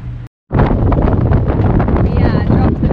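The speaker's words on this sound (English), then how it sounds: "We dropped the main, it's getting quite windy." Strong wind buffets a sailing boat in a squall, roaring steadily and loud against the microphone, with a voice briefly audible under the gusts.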